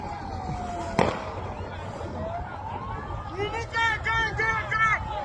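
At a street protest in Abuja, police fire tear gas with one sharp bang, then a whistling hiss of the canister, followed by shouting and crowd commotion with people yelling close by.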